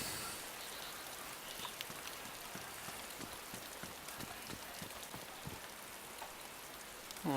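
Steady rain falls in DayZ, a dense even hiss of drops on surfaces with faint scattered taps, continuous and moderately quiet throughout with no talk.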